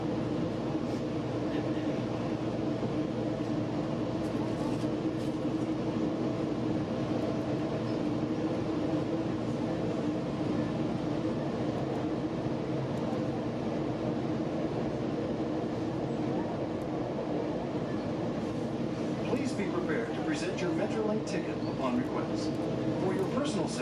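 Metrolink Arrow train pulling out of the San Bernardino freight yard, a continuous low rumble and rolling hum heard from on board, with faint clicks and rattles building near the end.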